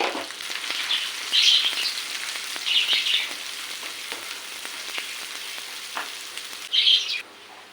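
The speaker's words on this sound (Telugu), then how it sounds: "ఆనియన్స్ వేసుకున్న తర్వాత పచ్చిమిర్చి ఒక నాలుగు తీసుకున్నాను వాటిని కూడా వేసుకొని ఫ్రై చేసుకోవాలి" Onions and four green chillies frying in oil in a pan, a steady soft sizzle with occasional brighter crackling bursts and faint stirring taps, no voices.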